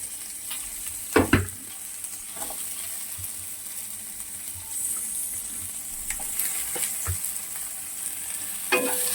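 Green chilies and onions fry in a pan with a steady low sizzle, punctuated by a few sharp pops and crackles and occasional stirring scrapes.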